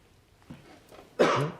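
After a quiet stretch with a soft throaty sound, one loud, close cough bursts out near the end.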